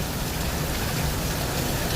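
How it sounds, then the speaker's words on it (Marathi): Heavy monsoon rain pours down in a steady, dense hiss over town streets and markets, with no letup and no voices. "असा हा पडला पाऊस"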